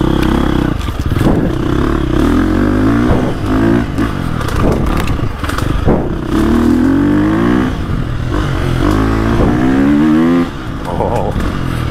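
A dirt bike engine revs up and down repeatedly, loud and close, its pitch climbing and dropping with each throttle blip, with a voice speaking over it.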